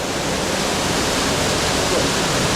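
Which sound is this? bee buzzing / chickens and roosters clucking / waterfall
waterfall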